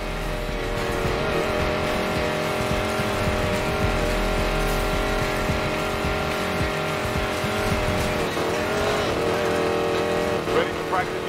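A hypercar with a racing engine roars and revs continuously, and tires squeal as it drifts through a street race in the video game Need for Speed Payback, with voices talking over the engine noise.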